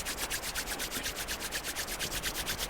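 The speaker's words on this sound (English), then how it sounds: "Rubbing the palms nicely." Palms rub together briskly and evenly in a quick, regular back-and-forth swish, close and alone, during a quiet yoga session at home.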